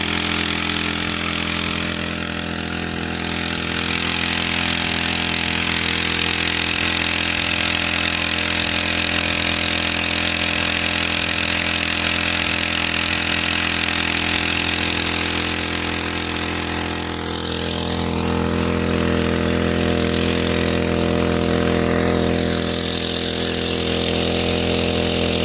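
A small two-stroke grass trimmer engine fitted to a water pump, drawing water from a drying pond behind a house, droning steadily and loudly at a constant pitch throughout with only slight dips.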